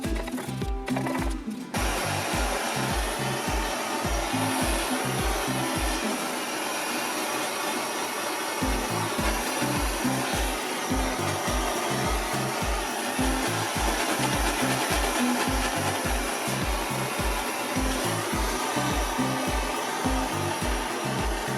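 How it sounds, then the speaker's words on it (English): A wood-sanding bit on a rotary tool cleans a dirty homemade copper lug, giving a steady, loud whirring grind with a rapid pulsing rhythm that runs continuously, with a sharp scrape at the start. "This is actually like a wood sander sort of bit on there, but it does good for copper and all sorts."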